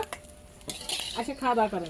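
Metal utensils clink against a frying pan as pieces of fried beef are lifted out, a few close scrapes and taps, with a voice briefly speaking near the end.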